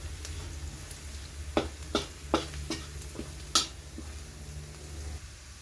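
Puffball mushrooms fry in a pan over medium heat under a low, quiet sizzle, and a utensil scrapes and knocks against the pan in about six sharp, irregular strokes.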